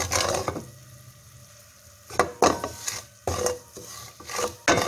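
Salt and spices, including pink and black salt, are dry-roasted in a pan for a date and tamarind chutney, heard as bursts of gritty scraping and rasping stirs separated by quieter gaps.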